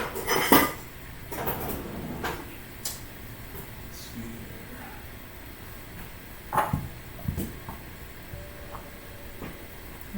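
Kitchen utensils clatter and clink as a strainer is pulled from among them: scattered sharp metallic knocks and rattles, louder near the start and again later, separated by quieter stretches.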